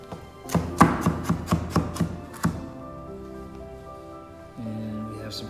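A knife chops orange carrots on a board outdoors in a garden, about eight quick, sharp, evenly spaced taps up close, followed by quieter handling and a brief voice.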